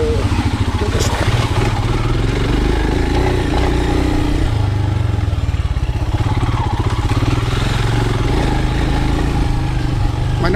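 Royal Enfield Himalayan motorcycle ridden off-road through a tunnel, its single-cylinder engine thumping loud and close in a steady, rapid pulse with clattering and wind mixed in.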